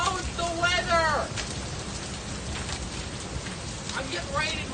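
Rain pours steadily in an outdoor spot, a constant hiss of drops on surfaces, with a voice talking over it near the start and end.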